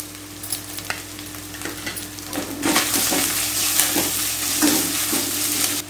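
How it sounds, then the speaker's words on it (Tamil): Grated coconut sautéing in a pan for coconut rice, a steady sizzle with repeated scraping strokes of a spatula stirring it, growing louder and busier partway through, close by and with no talk. "தேங்காய் வதங்கிடுச்சுங்க."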